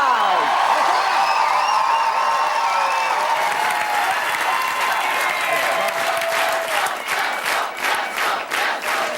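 Studio audience at a French-language comedy TV show giving loud, sustained applause with cheers and whoops for a judge, a dense roar that thins into individual claps toward the end.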